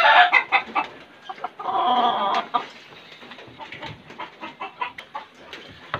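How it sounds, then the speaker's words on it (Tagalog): A fighting rooster clucks in a string of short, uneven bursts, fairly close and loud, with no talk over it. "Pakita ko sa inyo guys yung dalawa kong manok na nanalo"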